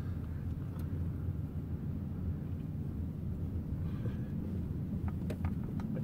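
A full-sized automated research car rolls downhill, its steady low engine and road rumble droning close and even throughout, with faint wind noise and a few light ticks near the end.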